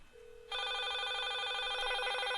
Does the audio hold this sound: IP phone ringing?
yes